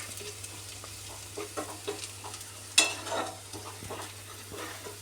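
Pepper and masala powder are stirred into chicken pasta in a pan, a soft sizzle under repeated spoon scrapes and taps, with one sharp clank midway.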